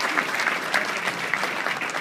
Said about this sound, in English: Give these people a big round of applause for being here.